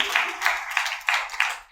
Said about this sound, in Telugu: చప్పట్లు కొట్టగలరు ఒకసారి?